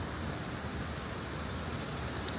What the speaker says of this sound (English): this waterfall flows down quite a ways